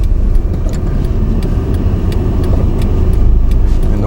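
A car creeping forward on a snowy, icy road toward an intersection with a main road: a loud, steady low engine rumble heard from inside the car, with faint repeated ticks above it and no talking.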